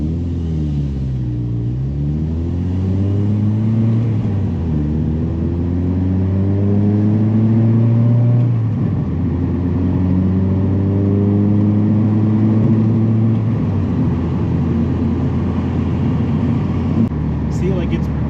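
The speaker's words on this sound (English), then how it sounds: "See, like it's flowing through the gears just fine" Mazda Miata driving on the road, engine note climbing and dropping repeatedly as it shifts up through the gears, a loud continuous rumble close inside the cabin.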